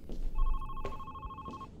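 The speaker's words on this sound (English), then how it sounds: "Your phone is ringing." A phone rings in a horror video game about Alzheimer's disease: a steady electronic tone rises over a low background, with a few soft thuds.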